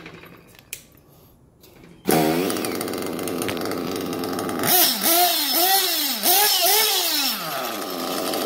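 A small gasoline engine, shown with its internals after a gallon of running, sits quiet at first, then cranks and fires up at once into a loud, steady run with several revving surges near the end.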